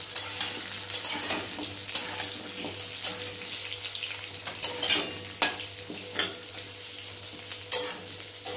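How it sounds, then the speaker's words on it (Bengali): Potatoes and onions with crushed cumin fry in a pan. A steady, moderate sizzle is broken by irregular clinks and scrapes of stirring, with no voices. "আমি পেঁয়াজ আর আলুটাকে একটু ভাজা ভাজা মতন করবো।"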